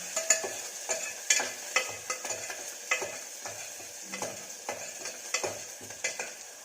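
Masala spices for arhar dal fry in a pan with a steady soft sizzle while a spoon stirs and scrapes in irregular taps; close and moderately quiet, with no voices.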